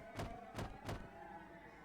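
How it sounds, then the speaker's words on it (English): Three heavy, evenly spaced bangs on a door, a game sound effect from Higurashi: When They Cry, loud thuds followed by a quiet tail. "Shion banged on the door."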